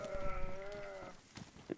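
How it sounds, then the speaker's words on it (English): A cow lows once in a video game, a short nasal bleat-like call with a wavering tone that lasts about a second, near and clear, followed by a few quiet clicks. "There's a cow."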